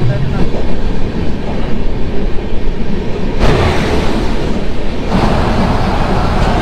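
A train on the Howrah to Ranchi line runs with a loud, close, continuous rumble, and its sound shifts abruptly a couple of times as it moves.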